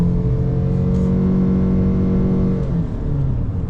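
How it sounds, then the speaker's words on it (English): A 2026 Ford Maverick XL Hybrid pickup accelerates on throttle in normal mode, heard from inside the quiet cabin as a steady rising engine drone with a low hum, easing slightly near the end. "Let's go on throttle in normal."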